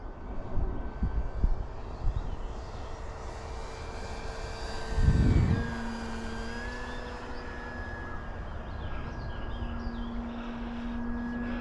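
A small RC model airplane at a flying field makes a steady whining propeller drone with a rising and falling pitch as it banks through a turn, with a brief closer whoosh midway and light wind noise.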